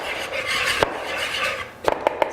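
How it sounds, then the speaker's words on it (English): Wire whisk rattling quickly against a mixing bowl, stirring flour-type dry ingredients with half a teaspoon of baking soda, a steady scraping clatter that ends in a few sharp metallic taps on the rim. "whisk that together"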